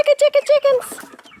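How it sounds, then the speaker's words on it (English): A quick run of short, evenly spaced high calls from Silkie chickens that trail off into softer chatter, close and fairly loud. "come here, chickens. My chickens. Come here. Chickens!"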